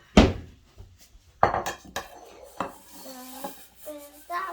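Granola ingredients being mixed in a bigger bowl, with sharp knocks and clinks of a utensil and bowl, rattling scrapes between them, and a voice briefly heard near the end.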